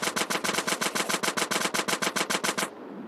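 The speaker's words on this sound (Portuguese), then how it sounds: "atire nas caixas para saber onde que tá o bagulho" Rapid automatic gunfire from GTA San Andreas on Android, aimed at crates: a steady burst of about twenty evenly spaced shots, loud and close, cut off sharply near the end with a low game ambience left behind.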